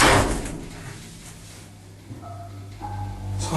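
The swing door of a slow European-style hydraulic platform lift with no inner doors opens or closes, giving a soft thud and a rumble of movement followed by low mechanical hum at moderate distance.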